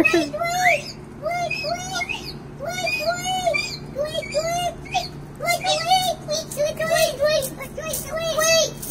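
A bird chirps and coos in short repeated calls while children's voices talk to it nearby, the chirps and speech interleaving throughout.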